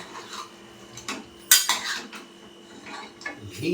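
A spoon scrapes and clinks against a pot of country chicken salt curry during stirring, with several sharp metallic knocks and a louder clang midway, close and with no one speaking.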